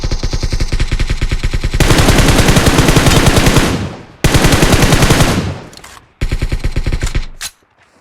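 Automatic gunfire in the video game PUBG Mobile: loud, close, rapid bursts with a brief break in the middle and short gaps near the end, ending abruptly.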